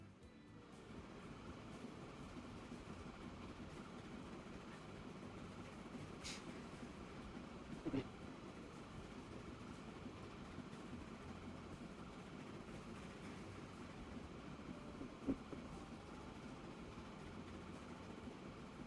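Faint, continuous rumble of a train running across the rail network in Transport Fever 2, with a couple of soft clanks along the way.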